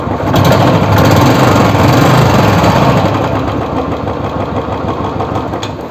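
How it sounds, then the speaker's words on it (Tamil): A Royal Enfield Bullet engine, freshly given an oil change, idles loud and near with a steady, rapid mechanical chugging that carries on without pause, and no one speaks. "நார்மல் புல்லட் இன்ஜின் சவுண்டு தான் வருது."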